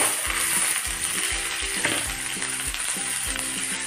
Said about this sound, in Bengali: ভালো গরম হয়ে গেছে তেলটা, তো কালো জিরা আর একটু দিচ্ছি, আর এখন আমি আলু ফুলকপি ঢেলে দেব